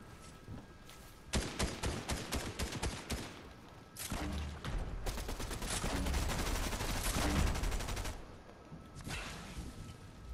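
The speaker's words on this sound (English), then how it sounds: "Grenade launcher!" Grenade launcher and other weapons firing in Fortnite: loud, close bursts of rapid repeated shots in several volleys separated by brief pauses, with booming low thumps under the later bursts.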